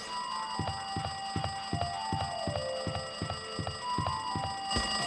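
A telephone in the Danganronpa 2 video game rings with a harsh, alarm-like tone: rapid, evenly spaced electronic pulses that repeat steadily and loudly over a constant high whine, then stop abruptly near the end.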